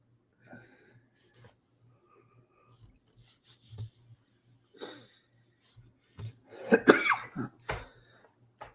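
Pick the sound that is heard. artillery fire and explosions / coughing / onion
coughing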